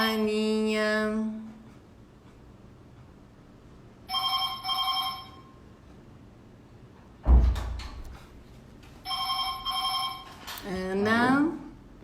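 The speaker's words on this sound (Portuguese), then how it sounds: "Caiu uns negócios da geladeira aqui, fez puta barulho." A loud crash of items falling out of a refrigerator at home, a single heavy clatter in the middle of the clip between ringing phone tones, with a person talking before and after.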